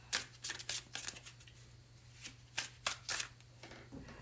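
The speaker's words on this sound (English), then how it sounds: "I'm going to shuffle a little bit" Tarot cards being shuffled in bursts of crisp riffling flutters, several quick rounds with short pauses between, close and fairly quiet over a low steady hum.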